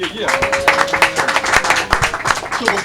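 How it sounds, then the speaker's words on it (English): Clapping from guests at a Beverly Hills brunch, individual claps standing out near and sharp amid a scattered round, with talk mixed in. "Give yourself a round of applause for being here."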